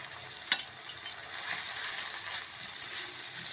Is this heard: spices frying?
yes